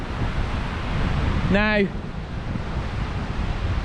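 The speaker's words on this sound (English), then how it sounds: "it just feels like it's gusting all the time" Strong, gusting wind on the Lincolnshire coast roars as constant broadband microphone buffeting, with someone speaking briefly partway through.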